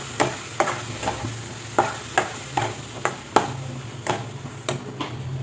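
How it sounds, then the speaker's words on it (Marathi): Mango pulp stirred and sautéed over a low flame in a pan for mango modak, with a spoon scraping in repeated rhythmic strokes over a soft steady sizzle, close and moderately loud, no talking. "आंब्याचा गर टाकून हे छानपैकी असं परतून घ्यायचं आपल्याला."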